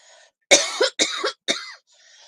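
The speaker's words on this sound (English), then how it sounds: "Oh, coughing. Terrible cough." One person coughs three times in a row, each a harsh, close, loud burst separated by brief pauses, with faint quiet background before and after.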